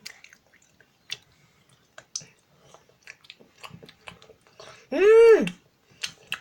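Someone eats a chocolate-coated snack, with soft close chewing, crunching and mouth clicks scattered throughout and a brief voiced hum near the end.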